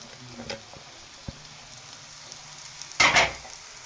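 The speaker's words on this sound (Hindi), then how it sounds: "आप लोगों ने अपने जो आलू हल्के हल्के से मैश किए हुए हैं वो उसके अंदर मिक्स कर देने हैं आपने।" Mashed potatoes and shredded beef are stirred into a frying masala for samosa filling, with a quiet sizzle, a few soft spoon taps, and one louder scraping stir near the end.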